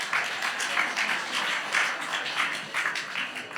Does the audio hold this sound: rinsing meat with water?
no